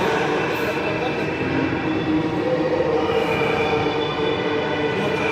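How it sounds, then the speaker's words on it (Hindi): A Delhi metro train pulls into the station, a loud sustained rumble and whirring roar with a steady mechanical hum, a crowded platform behind it and people talking over the noise. "फाइनली मेट्रो आ चुका है।"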